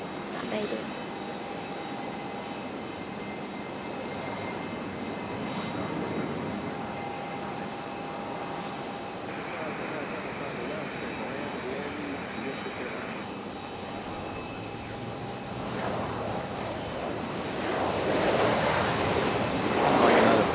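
A Frontier Airlines jet at Raleigh-Durham airport rumbles steadily with a thin engine whine, growing louder toward the end as it nears, while a person talks intermittently over the noise.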